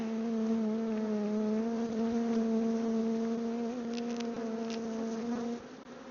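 Honey bees at a hive on a maple farm make a steady, dense buzzing drone, close and continuous, fading slightly at the end.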